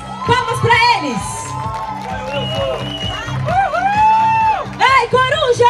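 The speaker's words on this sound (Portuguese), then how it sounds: "Parabéns! Palmas pra eles!" Spectators at the podium ceremony of the Eco Run 2023 road race in Holambra clap and cheer for the runners, a moderate scattered applause beneath loud announcer talk and shouts.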